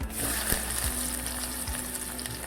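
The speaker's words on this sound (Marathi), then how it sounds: "मी आता अर्धा चमचा जिरं टाकलं आहे" Half a spoon of cumin seeds dropped into hot oil, crackling and sizzling in a bright, busy burst close to the pan, with no talk.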